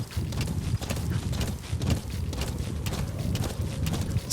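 A horse gallops in Metal Gear Solid V, its hooves drumming in a steady, fast rhythm that stays close and fairly loud throughout.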